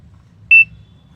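A single clear electronic timer beep starting an egg puff eating challenge, short and loud against a quiet background.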